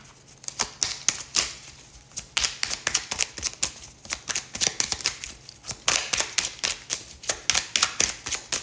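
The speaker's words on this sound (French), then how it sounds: "On va tirer encore une petite carte." Tarot cards being shuffled by hand, close and fairly loud, a steady run of quick crisp riffling flicks and taps with short pauses between bursts, no voice over it.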